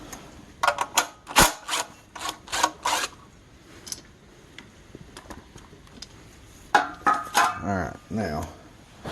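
Recoil starter being taken off a Honda GX160 generator engine, heard as close metallic clicks, taps and rattles of bolts and housing in irregular clusters, with a short scraping, ratcheting run near the end.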